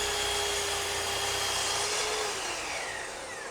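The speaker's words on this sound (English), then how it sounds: "Now I'll cut some of the smaller pieces to size at the table saw." A table saw or miter saw cuts wood pieces to size, a loud steady whining roar close by for the whole stretch, easing slightly at the end.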